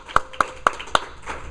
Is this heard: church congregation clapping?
yes